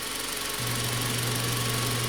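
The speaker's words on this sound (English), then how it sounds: "as you can see, or maybe hear, it's idling like a champ" A 2001-2005 Honda Civic engine idles steadily with a low, even hum and slight mechanical rattle, close by and continuous throughout.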